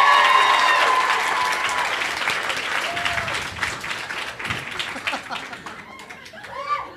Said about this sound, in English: if you like the latter hair, show of a round of applause